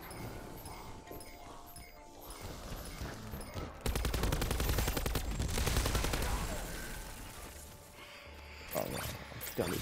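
Rapid automatic gunfire from a Black Ops 4 zombies match, aimed at skeletons' heads, crackles in a dense, loud burst over several seconds, with quieter game sounds before and after and a voice talking throughout.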